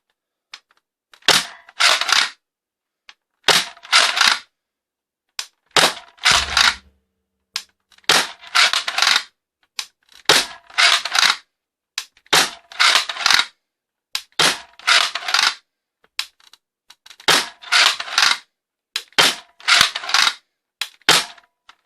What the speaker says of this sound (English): Let's start by shooting a couple darts with the giveaway Longshot.